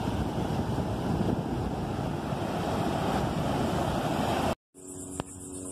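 Waves washing ashore at a beach at high tide with a light breeze blowing across the microphone, a steady broad rush of surf and wind that cuts out abruptly near the end, followed by a quieter stretch of softer water.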